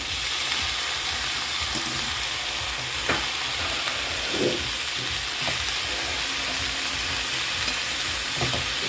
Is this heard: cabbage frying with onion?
yes